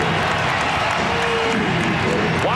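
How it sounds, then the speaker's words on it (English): A basketball arena crowd at Conseco Fieldhouse cheers on the Pacers during a Christmas Day 2004 NBA game against the Pistons. The roar is loud, dense and continuous, with a few whistles and yells rising above it. "the crowd trying to urge on the Pacers here at Conseco Fieldhouse"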